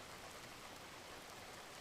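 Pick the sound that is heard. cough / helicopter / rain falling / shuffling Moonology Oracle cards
rain falling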